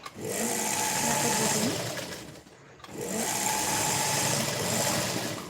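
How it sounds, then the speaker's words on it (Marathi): A sewing machine stitches a princess-cut blouse in two bursts of fast, steady mechanical whirring, close and fairly loud, with a brief pause between them. "आपल्याला आता याच्यावरती वरच्या साईडनं फिनिशिंगमध्ये शिलाई मारून घ्यायची आहे"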